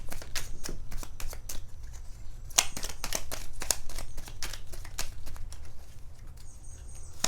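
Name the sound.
shuffling tarot cards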